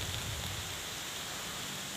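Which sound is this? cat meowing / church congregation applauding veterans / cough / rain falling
rain falling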